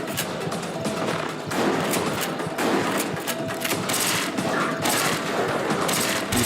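Rapid, continuous gunfire from Resident Evil: The Darkside Chronicles, dense bursts of shots packed close together and loud throughout, with brief gaps between volleys.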